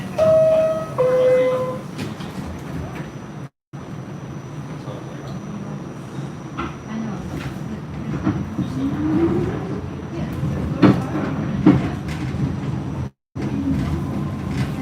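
A New York City 2 or 5 subway train in Brooklyn rumbles and rattles along the track for a long stretch, with a chime tone early and metallic screeches; voices murmur faintly.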